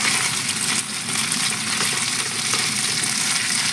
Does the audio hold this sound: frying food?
yes